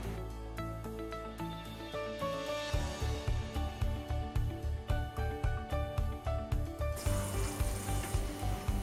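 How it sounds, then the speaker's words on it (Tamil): Cashews and raisins frying in the same oil used for boondi for a laddu, a moderate close sizzle with a regular low thudding rhythm, turning brighter and hissier near the end, no talk. "இப்போ அதே எண்ணெயில் முந்திரி திராட்சையும் பொரிச்சிடலாம்."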